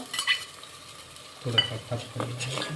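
Mutton masala roasts in a pan with a soft sizzle and occasional scraping stirs, faint and close, a low frying hiss that grows slightly in the second half.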